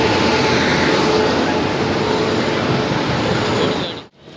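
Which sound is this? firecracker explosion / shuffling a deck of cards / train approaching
train approaching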